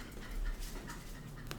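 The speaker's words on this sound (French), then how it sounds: "c'est mon chien qui a sa minute de folie" A pet dog panting and whimpering in short, soft, rapid breaths with faint whines and brief yelps, heard fairly close and quiet, with no talking.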